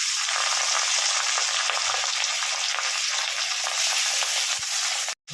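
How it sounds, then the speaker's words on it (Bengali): Katla fish pieces sizzle loudly and steadily in hot oil, a dense continuous frying hiss that runs unbroken before cutting off abruptly near the end. "এবার আমি একটা করে মাছ ছেড়ে দিচ্ছি"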